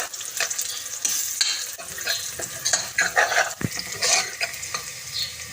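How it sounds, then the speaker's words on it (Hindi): A spoon stirs garlic into browned onions in a sizzling pan for a pea pulao, giving repeated scraping strokes over a continuous frying hiss, close and alone. "अब हमने इसमें लहसुन डाल देना है। इसको मिक्स करेंगे हम अच्छे से"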